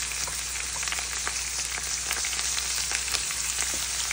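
Loud, dense frying hiss and crackle from a pan while kichidi is cooked, a continuous spattering sizzle close up with no talking.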